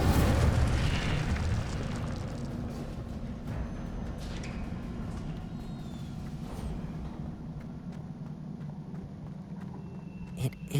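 Incendio fire spell effect in a Harry Potter video game set in a library, a loud roaring burst of flame that settles into a steady rumbling whoosh, with a sharp crackle near the end.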